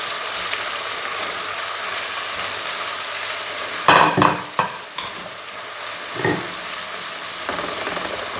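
Blue foot mushrooms fry in a pan with a steady hiss, broken near the middle by a few clattering stirs and scrapes before the sizzle settles again.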